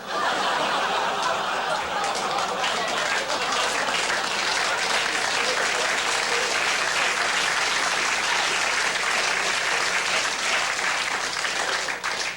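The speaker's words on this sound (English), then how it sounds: "That's my favorite crowd reaction" A studio audience breaks into sustained applause mixed with scattered chuckles and laughter, a steady loud clatter of hands lasting throughout.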